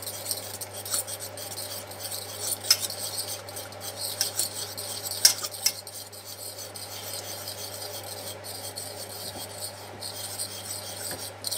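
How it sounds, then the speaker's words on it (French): A spoon scrapes and rubs steadily around a pan while béchamel sauce is stirred, making a close, continuous rasping with a few sharper scrapes and no voices. "Donc on remue bien. Bien la béchamel, hein."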